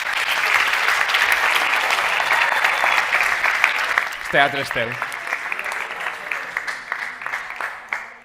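Theatre audience applauds at a second-anniversary celebration, a broad sustained wash of clapping from a crowd; a brief spoken phrase cuts in midway, and the applause thins toward the end.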